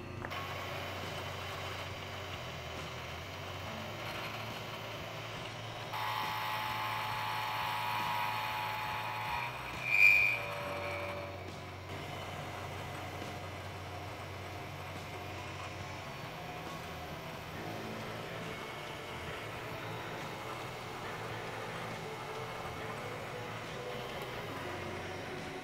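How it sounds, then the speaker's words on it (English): Milling machine cutting a radius on the end of a custom U-brake part for a bicycle frame, a steady low mechanical whir with a brief louder bump midway, running alone without talk. "I think what we'll do next is to mill the radius on the end."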